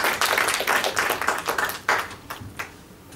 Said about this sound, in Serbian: Može jedan aplauz podrške